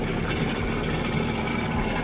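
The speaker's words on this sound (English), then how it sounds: "And I have one engine hooked up," A Yamaha jet boat engine idles while being flushed with a hose, a constant loud, dense rumble with a watery hiss mixed in and no voices.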